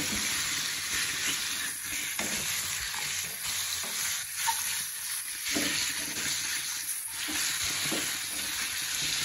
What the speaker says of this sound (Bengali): তো চলো এটাকে আমি হালকা ফ্রাই করে নেবো